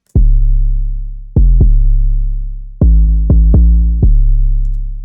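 A soloed 808 bass, dry and without any resonance processing, plays alone: seven loud, booming notes with sharp attacks and long decaying tails in an uneven pattern, some hits closely paired.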